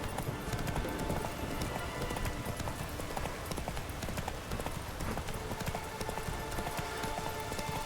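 Roach the horse gallops in The Witcher 3 video game, a steady, rapid clip-clop of hooves running continuously under ambient game sounds, with no pauses throughout.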